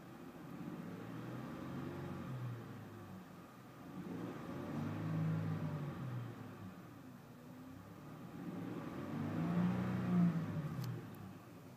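A 2010 Honda Odyssey SE minivan engine idling in park and revving in three swells, each rise and fall steady and moderately loud, with no talking.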